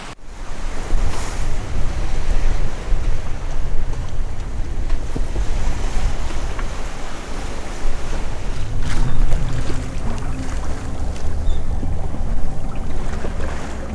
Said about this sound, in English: The motor is running right now, but we sailed for pretty much the entire time, up to about 6:30.